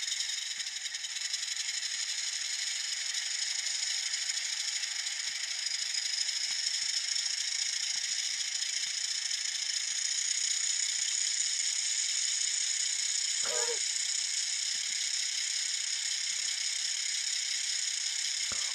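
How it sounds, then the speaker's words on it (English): An N scale Atlas Alco S-2 model diesel locomotive runs flat out with a constant high-pitched whine and buzzing motor drone, like a runaway diesel, with one brief squeal partway through and faint rattles. "Sounds like a runaway diesel at this point."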